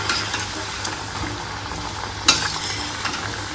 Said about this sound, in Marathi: गॅस लो टू मीडियमच ठेवलेला आहे आणि आपण छान तळून घेऊया.